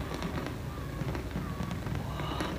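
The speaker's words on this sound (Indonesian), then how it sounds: "Sekarang yang kecil-kecil kembang apinya." Small fireworks at the SEA Games 2019 closing ceremony crackle and pop in rapid, dense bursts at a distance, sitting under a constant roar of crowd noise.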